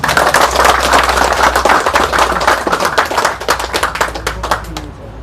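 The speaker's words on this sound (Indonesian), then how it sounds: "Tepuk tangan dulu buat kita semua." Loud, dense hand clapping from an audience at an Indonesian Pemuda Batak Bersatu branch ceremony in Medan Amplas, sustained and close, with some sharp individual claps standing out before fading near the end.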